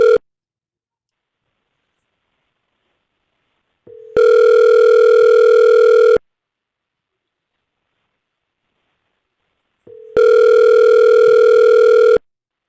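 A telephone rings in two long electronic bursts, each about two seconds, separated by several seconds of silence, loud and close.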